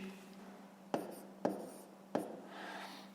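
Handwriting on paper, three sharp taps or strokes of a pen spaced about half a second apart, close and quiet, with a soft scratchy rustle near the end and a faint low hum throughout.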